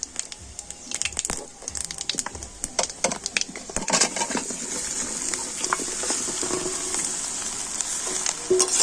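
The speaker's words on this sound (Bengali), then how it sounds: "তো আমগুলো তেলের সাথে একটু হালকাভাবে নাড়াচাড়া করে নেবো" Raw mango pieces with panch phoron fry in oil in a kadai. Sharp scraping and clattering stirs come first, then settle into a continuous, fairly loud sizzle with intermittent stirring knocks.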